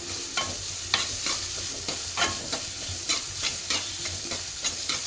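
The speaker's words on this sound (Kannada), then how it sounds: "ಸ್ವಲ್ಪ ಈರುಳ್ಳಿ ಕೆಂಪಗಾಗಲಿ." Onions frying in a pan for pumpkin palya, a quiet steady sizzle broken by repeated scraping stirs of a spoon at an even rhythm.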